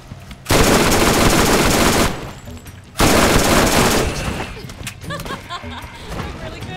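Sustained bursts of automatic gunfire from a new signature weapon in Borderlands 1, two loud rapid volleys separated by a brief pause, the second tailing off into scattered shots and game effects.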